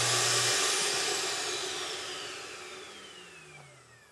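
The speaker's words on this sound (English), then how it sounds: "Vacuum." The vacuum in a 2026 Cherokee Alpha Wolf 29TB bunkhouse RV whines as its motor spins down, the falling pitch fading steadily over about four seconds with no talk.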